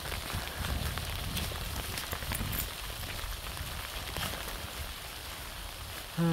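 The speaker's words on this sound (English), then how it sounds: "It's not rain. It's hail." Steady hiss of hail pattering on surfaces outdoors in a southern Swedish winter, continuous and fairly dense, with a few sharper ticks and no voices.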